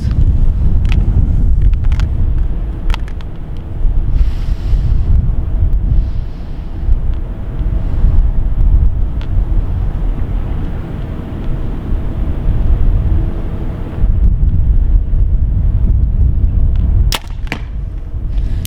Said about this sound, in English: Now there's a bit of wind out here too